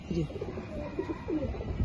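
A female Kaldom pigeon coos close by, giving a couple of soft, throaty, rolling coos over quiet room tone.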